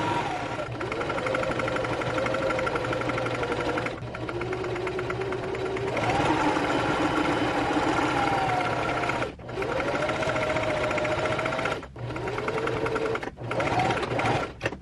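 Sewing machine top stitching thin vintage cotton fabric, a loud continuous mechanical whirr in several long bursts with brief pauses between runs, close up and alone.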